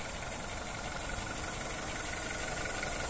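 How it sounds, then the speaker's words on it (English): A 1.4-litre petrol VW Polo automatic engine idles smoothly and steadily, a constant low hum with no other sounds. "Engine sound very nice and smooth."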